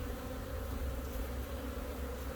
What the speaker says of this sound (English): these bees are much more calm than those bees